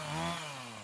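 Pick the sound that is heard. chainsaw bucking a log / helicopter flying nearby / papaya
chainsaw bucking a log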